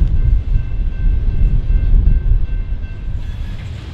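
A CSX freight train led by a GP38-3 locomotive, with an AC44CW and SD70 Mac and limestone cars, rolls past in a loud, steady rumble with a faint tonal hum.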